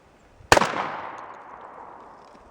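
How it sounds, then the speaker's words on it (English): A single shotgun blast fired at a stationary target outdoors, one loud sharp report followed by a long fading echoing tail, with no talking. "we're going to take a shot on this stationary target here"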